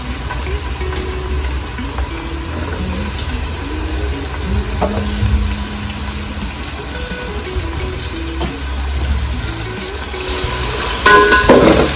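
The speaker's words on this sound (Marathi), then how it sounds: "आता तेल गरम झालेलं आहे यामध्ये मी टाकते कांदा आणि टमॅटो" Chopped onion and tomato fry in hot oil for chicken dum biryani, a loud, continuous close crackle and sizzle with faint clinks and a brief rise at the end.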